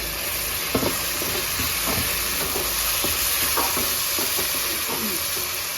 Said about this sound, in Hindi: तो टमाटर अच्छे से भून जाए